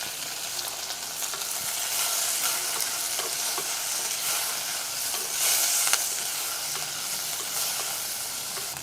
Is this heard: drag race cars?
no